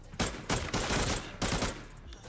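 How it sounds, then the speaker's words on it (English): Gunfire from a full magazine emptied in the Arena Breakout video game: several loud, close bursts of rapid automatic fire that run together over about two seconds. "I just put a whole mag into the guy."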